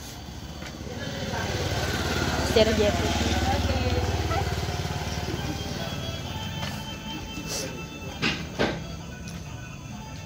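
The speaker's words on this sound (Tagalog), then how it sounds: "Ah, may motor." A motorcycle engine runs nearby with a steady, low rumble beneath the voices of children and adults talking, before easing off near the end.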